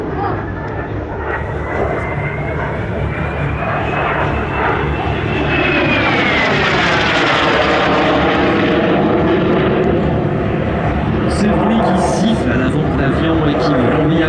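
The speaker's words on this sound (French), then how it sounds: "c'est le bruit très caractéristique des moteurs turbo-méca Marboré" A Fouga Magister jet with Turbomeca Marboré engines passes at an airshow, its loud, whining turbine roar sweeping in pitch as the aircraft flies by, with an announcer speaking over it throughout.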